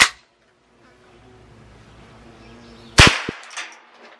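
A single sharp .22 Long Rifle gunshot cracks out loud and close after a stretch of quiet outdoor hum, followed by a couple of quick rattling echoes and knocks.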